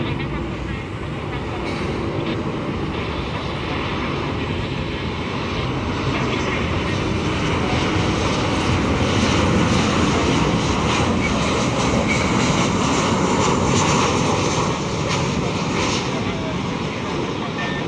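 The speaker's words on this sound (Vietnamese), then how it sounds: "Chiếc Boeing 737-900 của hãng không Bamboo Airways thực hiện chặng bay từ sân bay Liên Khương, Đà Lạt về đến sân bay Tân Sơn Nhất" A Bamboo Airways Boeing 737-900 arriving from Lien Khuong, Da Lat, lands at Tan Son Nhat airport with a loud, sustained jet engine roar that swells slightly midway and holds steady throughout.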